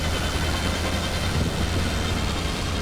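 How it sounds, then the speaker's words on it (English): Damaged engine of a WWI aircraft in the flight game Wings Over Flanders Fields, a rough, continuous low droning rumble with gritty noise, steady and loud, no voices. "I never had the engine sound like this"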